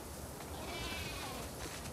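Sheep bleating in The Last of Us Part II, a soft, muffled animal call under a steady wash of game ambience and noise, quiet and somewhat distant.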